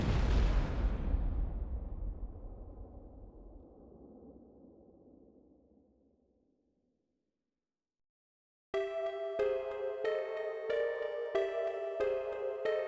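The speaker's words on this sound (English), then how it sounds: "Suddenly, a massive, fiery blast knocked him from his feet." Massive fiery explosion in the video game 428: Shibuya Scramble, a single loud boom with a long rumbling decay fading to silence, followed after a pause by rhythmic game music.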